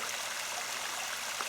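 A small waterfall trickles out of a forest on a quiet spring hike in Japan, a soft, steady wash of falling water, even and unbroken, with no voices.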